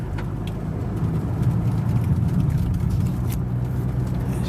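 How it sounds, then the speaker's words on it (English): A 1987 Mercedes-Benz 190D 2.5 Turbo drives over rough, broken winter asphalt, heard from inside as a steady loud engine drone with continuous road rumble and tire noise. "You can hear that asphalt coming up off the road from this horrible winter"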